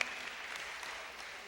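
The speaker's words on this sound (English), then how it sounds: "how about a big round of applause for all of our young people that performed for you tonight?" Quiet, steady applause from an evening audience of a live stage show honoring young student performers, a distant wash of many hands clapping at an even level for the full moment, with no voices over it.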